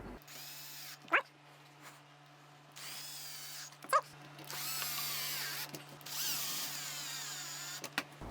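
A cordless power tool drives M3 screws to fix face plates onto back plates of a Boeing 737 autopilot panel, with several close whirring bursts of varying length between short pauses and a couple of sharp clicks.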